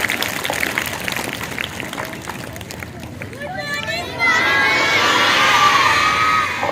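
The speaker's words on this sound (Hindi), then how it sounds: "बहुत शानदार तालियों से" A crowd of students at a school foundation-day assembly claps and cheers, with shouting voices rising into a loud, sustained roar in the second half.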